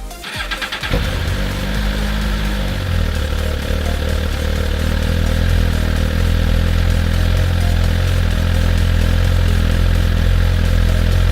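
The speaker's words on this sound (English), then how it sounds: "we start up the bike and then start engine data" A motorcycle on a tuning setup cranks and fires up, then settles into a steady, loud idle, with the engine droning close by and nobody talking.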